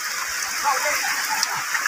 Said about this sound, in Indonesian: Hujan pun masih deras ya